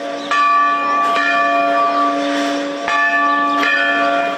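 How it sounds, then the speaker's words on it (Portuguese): Church bells peal at the Bom Jesus da Lapa pilgrimage sanctuary on a feast morning, several loud struck tones with long ringing overtones, strikes recurring at uneven intervals and sustaining without pause; no voices. "os sinos tocaram bem cedinho"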